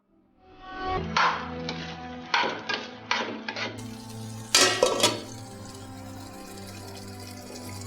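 In a home kitchen, a spoon clinks and scrapes against a cooking pot in a few sharp metallic bursts over a faint low hum, close and fairly loud, without talking.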